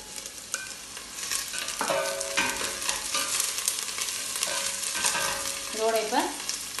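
Onions and green chillies sauté in a large pan, a continuous crackling sizzle with repeated spatula scrapes and metallic clatter close up, and no talking.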